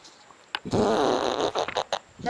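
A fart in a Haitian comedy movie scene, one loud, raspy burst that runs for over a second, with short bursts of sound around it.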